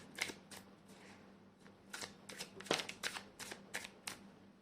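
Tarot cards are shuffled for a card reading, a series of crisp riffling and flicking bursts in an irregular rhythm, close and fairly soft in a quiet room.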